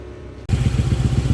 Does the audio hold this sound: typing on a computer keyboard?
no